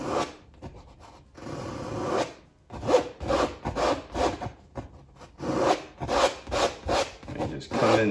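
A painting knife scrapes wet-on-wet oil paint off a canvas in a mountain river landscape, a series of rough, rasping strokes in a steady rhythm, close and fairly loud with no talking.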